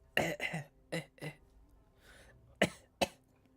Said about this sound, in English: We call that a cough break.